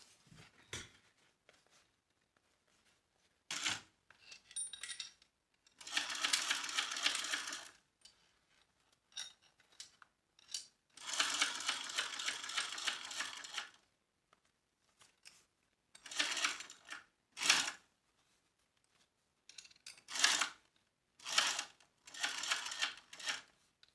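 A sewing machine runs in several bursts of rapid stitching, top-stitching along a zipper at a narrow seam allowance, with quiet gaps and small handling clicks between runs.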